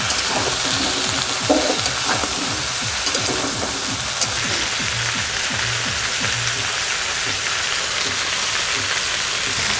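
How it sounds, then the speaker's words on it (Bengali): Potatoes fry lightly in a pan of oil as cauliflower is added, giving a loud, continuous crackling sizzle with busy stirring scrapes throughout. "আলু হালকা ভেজে ফুলকপি দিচ্ছি।"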